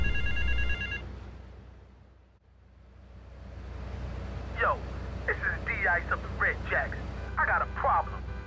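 A telephone in GTA 3 rings in repeated electronic bursts of warbling trills, several rings in a row after a brief fade-in, loud and close.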